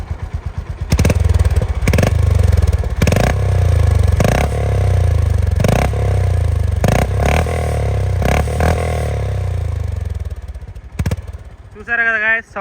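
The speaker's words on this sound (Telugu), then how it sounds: "ఇప్పుడు మీకు సౌండ్ అనేది రైస్ చేసి ఎలా ఉందో వినిపిస్తాను." A Honda CB350C motorcycle engine is blipped repeatedly, each rev a sharp rise and fall over a steady close idle, about eight bursts in a row before it settles and a brief squeak at the end.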